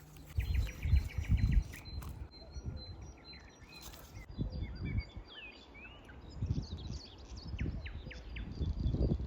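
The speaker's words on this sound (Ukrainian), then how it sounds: "Зелено, пташки співають." Small birds chirp and call in a green outdoor setting, with scattered high tweets over low rustling, wind and handling noise, fairly faint and steady throughout.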